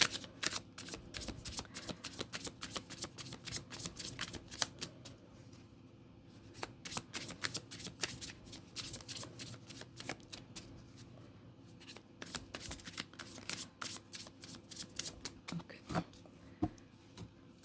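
Tarot cards being shuffled by hand, a long run of quick, crisp riffling snaps and flutters in irregular bursts with brief pauses, close and quiet.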